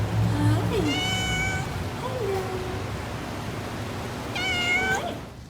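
A male cat meows repeatedly inside a conservatory, three or four drawn-out mews spaced a second or two apart, heard close over a steady background hiss and low hum.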